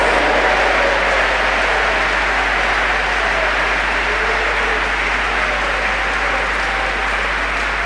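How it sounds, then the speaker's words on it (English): A church congregation clapping hands together, a dense, continuous roar of applause from many people that stays loud and even throughout. "Clap your hands, all ye people."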